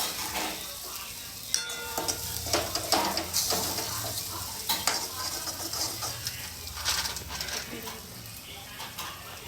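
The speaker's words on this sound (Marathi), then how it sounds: "सगळा मसाला भाजीपर्यंत फिरवत राहायचं।" Masala stirred in a pan for river crab curry, a steady scraping and clinking of spoon against metal over a low, constant sizzle of frying spices, close and fairly loud with no voices.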